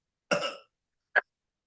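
A single close cough followed a moment later by a short, sharp throat-clear, both isolated against silence.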